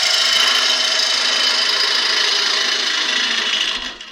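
A bowl gouge ground to a 55 degree bevel cuts into a spinning wooden bowl on a lathe, giving a steady, loud, close hissing shear that runs unbroken before tapering off at the end.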